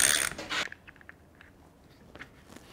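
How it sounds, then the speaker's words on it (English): Wheels coming off an upturned Baja Board S2 electric skateboard: a bright metallic rattle and scrape up front, then scattered small ticks and clicks of parts being handled, close and fairly quiet with no talking. "The first step is to take the wheels off."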